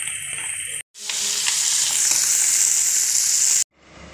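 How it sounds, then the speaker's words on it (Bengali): Fish sizzles and fries steadily in a hot pan for about three seconds, a loud continuous hiss with crackles, cut off abruptly at both ends. "এই মাছটা বাজা করি।"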